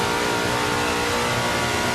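Car in the Forza 5 racing game accelerating hard in third gear, a dense, steady engine roar filling the whole two seconds with no pause, loud and close.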